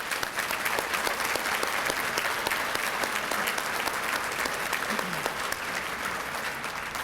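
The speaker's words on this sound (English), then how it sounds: "let's give them a huge round of applause" A banquet crowd applauds high school seniors with sustained, even clapping that fills the room at moderate volume without a break, a few sharper claps standing out from the dense wash.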